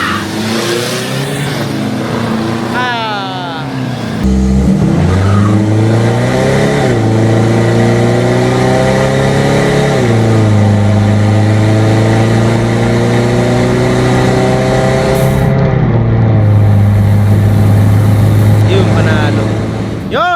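Two Toyota Fortuner diesel SUVs, an LTD and a 3.0 1KD, in a drag race, engines revving and pulling hard through rising gear-like sweeps, loud and close, with voices over the engine noise.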